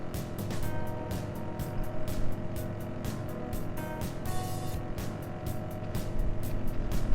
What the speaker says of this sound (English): Driving a car in the subway isn't something you get to do every day